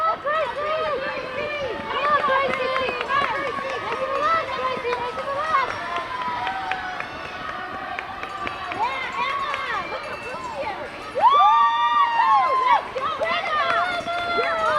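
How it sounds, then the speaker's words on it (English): Spectators shout and cheer for middle school girls racing a 2-mile cross-country course at Cole Brown in a New Hampshire state championship. The crowd voices are steady and mid-distance, and someone talks over them throughout. "A lot of excitement here, a lot of fans here"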